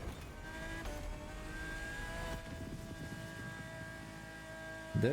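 A Pagani supercar engine in a racing video game droning steadily with tonal whine and shifting pitch, ending in a sudden louder revving burst.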